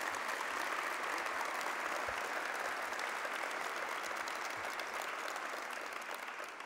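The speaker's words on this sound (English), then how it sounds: "Let's give him a round of applause, Joseph Loda." Sustained, dense applause from an audience at a transit-agency opening event, honoring a returning official; steady and loud throughout with no speech over it.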